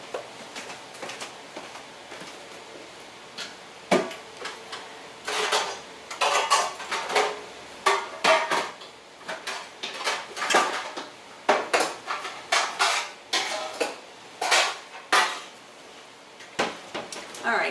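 Metal pans and bakeware clattering and clanking in a home kitchen while a bread pan is dug out, repeated sharp bangs and rattles in irregular bursts, close and loud, with quieter shuffling between.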